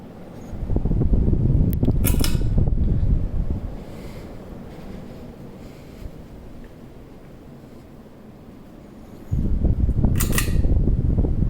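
Two Gulf Coast Meridian ceiling fans running on high and wobbling, giving a loud, steady whooshing rumble that drops away for several seconds mid-way and then returns, with a couple of sharp clicks or knocks.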